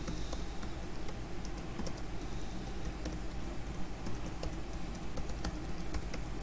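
Steady rapid clicking of a computer keyboard as code is typed, close and fairly quiet, with a continuous patter of keystrokes and no speech.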